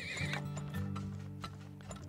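Horses in the video game Turmoil give a high neigh at the start over steady, close clip-clop hoofbeats, with a busy low game hum underneath and no speech.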